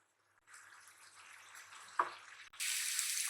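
Chopped garlic and onion hit hot oil in a wok, a faint hiss that rises into a sharp, loud sizzle after a brief clatter and holds steady to the end, with no talking.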